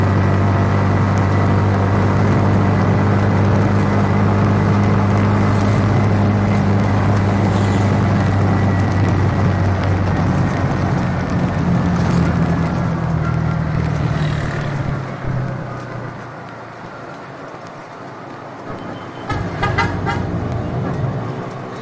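A TVS King auto rickshaw engine driving through gears in traffic, a loud, close droning hum that drops in pitch as the gear changes, then fades and picks up again, with a horn toot and traffic noise around it.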